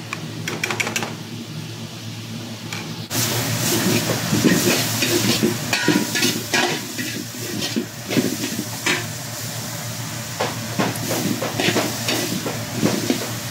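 Eggs seasoned with Magic Sarap are beaten in a bowl, quiet at first, then rapid close clicking and sloshing strokes of the whisk or fork run fast and steady.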